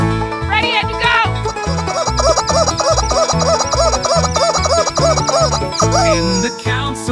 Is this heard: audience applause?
no